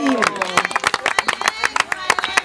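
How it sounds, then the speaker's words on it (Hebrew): At an Israeli end-of-season gathering the audience claps in a quick, uneven burst of close hand claps, with people talking over it. "כפיים"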